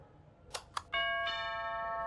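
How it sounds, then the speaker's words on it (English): A doorbell in a horror video game gives two quick sharp strikes followed by a sustained, ringing ding-dong chime that hangs on steadily, clear and fairly close with no talking over it. "Ding dong."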